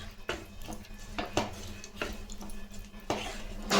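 A utensil scrapes and knocks against a pan while stirring potato masala, with uneven clanks every half second or so, close and moderately loud.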